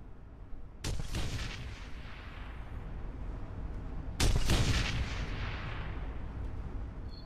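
Two heavy, booming gunshots in the game Shadowrun: Hong Kong, each a sharp blast followed by a long rumbling decay, spaced a few seconds apart with no talk.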